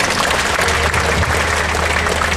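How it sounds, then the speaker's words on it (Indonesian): Audience at a motivational talk at Menara 165 applauding the speaker, with a brief, steady burst of loud, dense clapping from a crowd. "Ya, tepuk tangan dulu dong."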